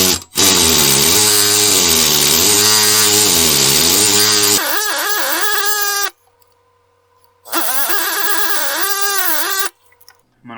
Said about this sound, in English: we'll go again with the air hammer